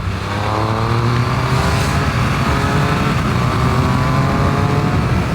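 A Triumph Speed Triple 1200 RS motorcycle accelerates hard, its engine note rising through steady, harmonic-rich revs that stay loud and close-up throughout with no talk over it.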